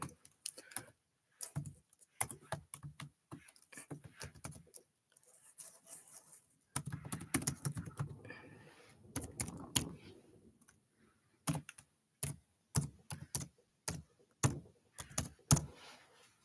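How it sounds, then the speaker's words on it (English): Computer keyboard typing in irregular bursts of quick clicks, close and fairly quiet, with pauses between runs and a sharper, evenly spaced series of keystrokes toward the end. "Forgot I can type, huh?"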